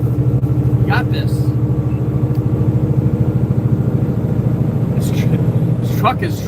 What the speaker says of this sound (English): This truck is struggling with these hills